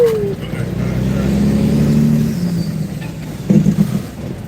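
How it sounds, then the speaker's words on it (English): Semi truck engine with its jake brake, heard from the cab: a steady low diesel drone with a rising engine note, then a rougher stuttering rumble near the end. "Turn that J brake off"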